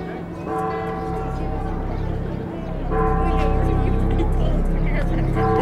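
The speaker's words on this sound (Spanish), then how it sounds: "Escuchaba las campanas de la iglesia." Church bells ring on sustained, overlapping tones under a low vehicle-like rumble, growing louder partway through, with faint speech in the background.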